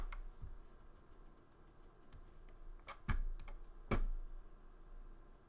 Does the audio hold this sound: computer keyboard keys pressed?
yes